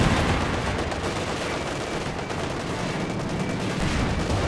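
Battle noise from Company of Heroes 2, a dense, continuous rumble of small-arms fire and distant explosions at steady loudness throughout, with no voices.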